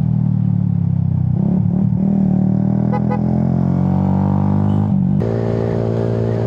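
A motorcycle engine drones close by on a dark provincial road at night, a steady loud hum with a shift in pitch near the end as it moves past.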